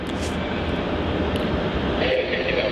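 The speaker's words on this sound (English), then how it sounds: "we've got an awesome heavy departure here off runway 34 out of Melbourne" A heavy jet, likely a 787, departs runway 34 at Melbourne Airport, its engines a steady, loud broadband roar that fills the whole stretch without letup.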